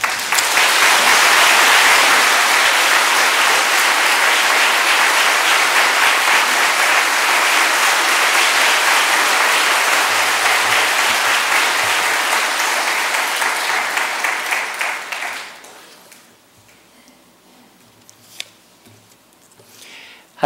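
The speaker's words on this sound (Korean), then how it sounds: "이렇게 나오실 때 우리가 박수로 좀 환영하겠습니다" Loud, sustained applause from a large church audience welcoming a speaker fills the room, then fades out abruptly, leaving a quiet room with a few faint clicks.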